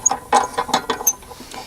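A RotoPack mount handle being turned on a trailer rack, giving a quick series of about six close, crisp ratcheting clicks.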